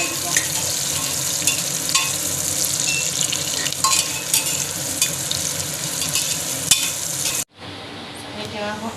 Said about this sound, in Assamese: পিঁয়াজখিনি লৰাই কম ফ্লেমত এতিয়া মই ভাজি থাকিম